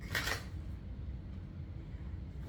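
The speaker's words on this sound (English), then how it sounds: "Y'all see me shuffle these cards backwards?" A deck of playing cards riffled briefly, a quick crisp burst of shuffling at close range followed by quiet room tone.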